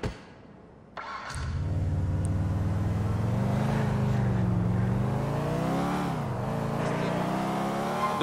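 A car driven in GTA IV starts up after a brief quieter moment, then its engine holds a steady loud rumble with rising and falling revs, close by and continuous.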